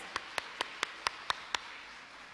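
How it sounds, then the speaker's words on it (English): Children at a nursery and primary school annual day clapping for themselves: seven faint, evenly spaced claps in a steady rhythm, then quiet. "So all of you, clap for yourselves"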